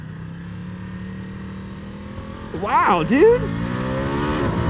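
A 2020 Ducati Diavel 1260 S motorcycle in sport mode accelerates hard, its engine note sweeping up sharply through a couple of quick revs over a steady road drone, with a man briefly exclaiming.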